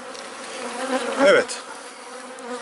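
Honeybees swarm around an opened hive of Italian bees with a close, steady buzzing hum that swells briefly in the middle; a person speaks one short word.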